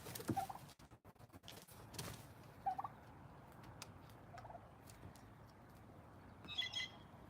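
Broad-breasted white turkeys raised for meat gobbling in a farmyard, a few rattling gobbles at moderate distance spread across the stretch, with quiet outdoor background between calls.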